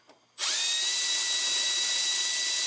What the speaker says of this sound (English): Use your 9/32 drill bit.